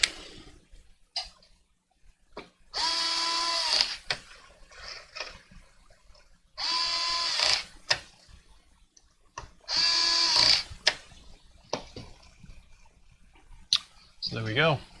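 Screws are driven in on a VORON 2.4 3D printer's electronics mounting with a small power driver, three whirring bursts of about a second each, separated by quiet handling clicks and taps.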